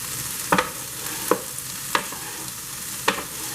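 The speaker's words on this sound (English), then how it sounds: "when I'm stirring this stuff up, this is the way I like to do it" Salmon and shrimp tossed and stirred in a hot pan, four distinct scraping strokes at roughly even intervals over a soft continuous sizzle.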